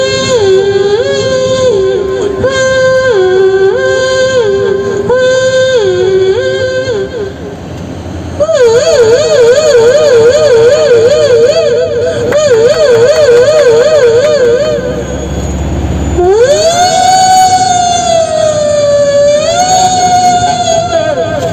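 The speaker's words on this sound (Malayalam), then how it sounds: "Ambulance പോകുമ്പത്തെ sound." Emergency sirens wail loudly and close, first in a cycling two-tone pattern, then a fast warbling yelp, then a rising and falling sweep, continuing for about twenty seconds with no talking.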